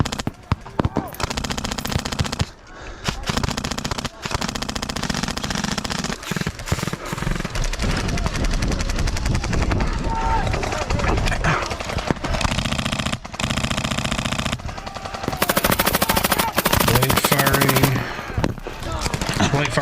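An M249 SAW machine gun fires blanks during an airsoft game, heard as loud bursts of rapid automatic fire broken by short pauses, with people talking in between.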